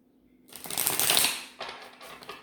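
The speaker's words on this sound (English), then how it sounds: "I never have a problem shuffling cards" A single riffle of cards shuffled close by, a dense papery flutter that swells for about a second, followed by softer shuffling and taps.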